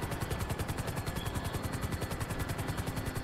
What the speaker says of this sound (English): the freaking helicopter's jerking all over the place